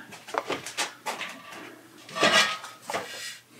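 Clattering metal handling of an old vintage pressure canner with wooden handles, with several separate knocks and clanks of the pot and lid, close and moderately loud.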